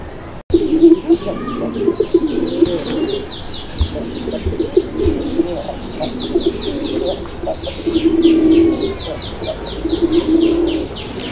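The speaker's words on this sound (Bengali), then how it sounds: "এটা হচ্ছে মূলত বোম্বাই কবুতর" Bombay pigeons kept as a fancy pair give repeated low, throaty coos in rhythmic bursts throughout, close and clear, with some chirping from other birds in the background.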